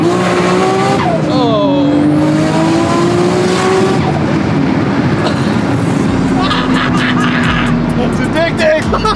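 A supercar accelerates hard with screeching tire squeal and a loud engine rising through the revs, then a gear change, all close and intense while the occupants talk and exclaim over it.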